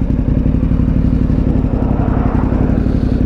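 A motorcycle rides and slows to pull over, its engine a steady close drone with clattering and wind rumble throughout, no talking.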